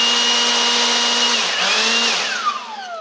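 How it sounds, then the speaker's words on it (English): A Milwaukee M18 Fuel 18-volt brushless cordless handheld blower runs loud and close, a steady high whine and rushing air whose pitch dips and sweeps as the trigger is eased, then begins to wind down. "compared to any other blower, it's not really that loud"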